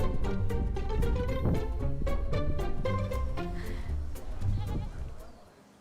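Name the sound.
goats bleating at goat camp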